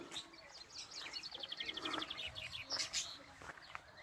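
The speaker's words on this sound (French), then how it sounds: "Ah, des petits oiseaux d'Amazonie encore." Small Amazonian birds chirp inside an aviary, quick faint rapid trills and tweets coming from a little distance over a low rustling background, with soft insect-like buzzing running through.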